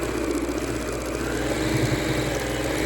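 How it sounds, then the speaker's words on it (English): A sewing machine runs a steady line of stitching across the bottom of a fabric chemo port pillow made for car seatbelts, its motor giving a continuous close-up whirring drone with no pauses and no talking. "And sew there across the bottom"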